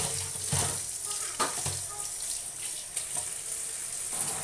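Tap water runs steadily into a kitchen sink for washing a basket of spinach greens, a continuous close splashing rush with a few louder spatters.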